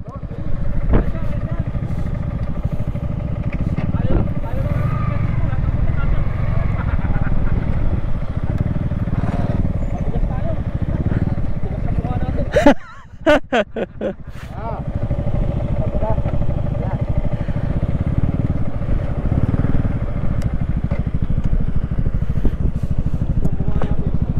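Motorcycle engines rumble steadily throughout, briefly cut by a loud clattering burst midway, with people talking over the engine noise.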